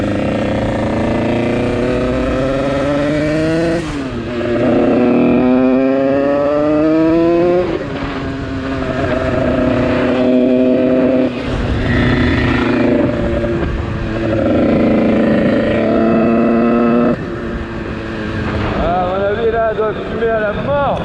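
Yamaha DT two-stroke motorcycle fitted with an 86 top kit, running loud and close with a buzzing engine whose pitch climbs and drops through several revving swells.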